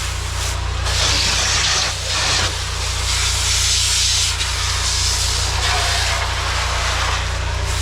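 A pressure washer rinses the exterior of a townhouse with a steady, loud rushing hiss of water spray, close up and continuous, its texture shifting slightly as the nozzle sweeps, under a low motor drone, with no talking.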